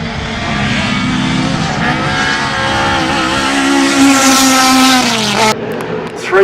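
Ford Mustang touring cars race in the 1968 Australian Touring Car Championship, a pack of V8 engines roaring loudly and continuously with rising pitch as they accelerate, a brief tyre squeal, then a sudden cut near the end.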